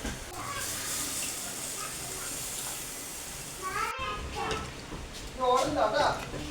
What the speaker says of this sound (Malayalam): അതിലേക്ക് നമ്മൾ പുളിവെള്ളം കൂടി ഒഴിച്ച് ഒന്ന് തിളയ്ക്കാൻ വയ്ക്കാം